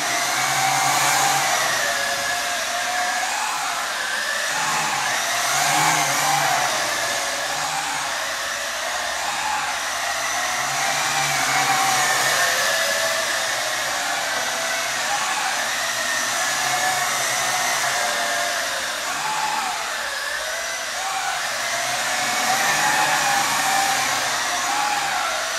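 Wltoys V262 drone motors run at full power, a steady, loud, broadband whine and rush with slight swells in pitch and level, running without a break and with no voices.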